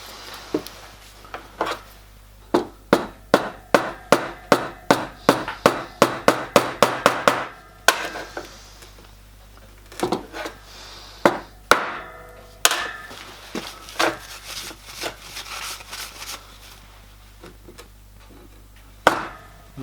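A hammer strikes rivets into parts of a 5-inch gauge model steam locomotive, sharp metallic taps arriving in a fast steady series, then a pause and slower irregular blows, close and loud, with no speech.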